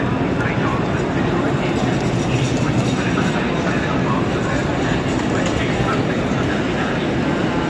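Loud, rumbling noise of a regional train arriving in Italy fills the clip, a dense continuous roar of wheels and engine with a voice faintly mixed in.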